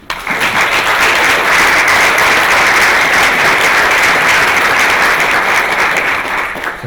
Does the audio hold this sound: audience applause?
yes